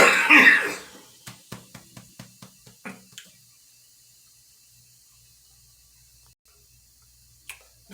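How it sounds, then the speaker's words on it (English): A harsh cough from smoking weed opens, followed by a quick series of smaller ticking clicks, then near silence with one brief sound at the end. "That's a good weed cough."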